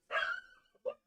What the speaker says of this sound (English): the dog is going bananas